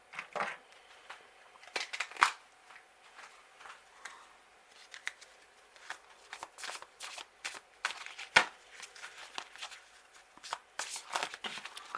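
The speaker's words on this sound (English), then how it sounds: "Okay, let's pull some other cards here." Tarot cards are shuffled and drawn by hand, giving close, quiet, irregular riffling, flicking and slapping sounds over a faint background hum, with no talk.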